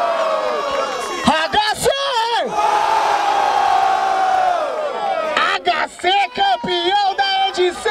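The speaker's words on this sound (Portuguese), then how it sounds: "Barulho para as rimas de Merak." Crowd at the grand final of a freestyle rap battle in Barueri, São Paulo, erupting in loud sustained cheering, whoops and shouts, with voices calling out over the roar before it breaks into shorter bursts.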